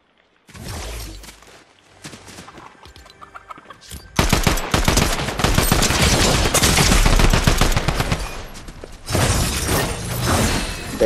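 Rapid bursts of drum gun fire in Fortnite, loud and close, dense sustained volleys after a quieter opening with scattered game sounds, a brief pause and then more firing.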